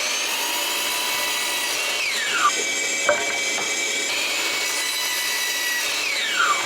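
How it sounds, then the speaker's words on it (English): A miter saw set to 45 degrees bevel-cuts a wood fence-picket board, producing a loud, continuous high motor whine with the blade biting through the wood and brief clacks as it is lowered and raised. "make sure our miter saw is set at 45 degrees"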